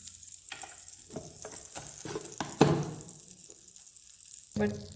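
Buttered sandwich toasting in a hot electric sandwich maker, giving a soft steady sizzle broken by a few sharp clicks and clacks, one louder knock midway, with faint voices nearby.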